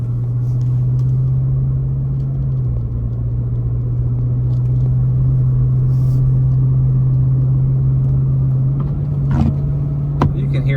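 A 2024 Ford Raptor R creeps along snowy side roads in 2-wheel drive, its engine a steady, close low drone throughout, with a brief rise near the end as the wheels spin momentarily.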